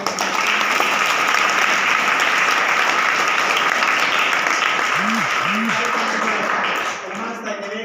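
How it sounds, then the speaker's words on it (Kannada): A school function audience gives loud, sustained applause to welcome a revered swamiji, a dense roar of clapping that holds steady and tapers near the end, with a faint voice and brief tones underneath. "ಜೋರದ ಚಪ್ಪಾಳೆಯೊಂದಿಗೆ"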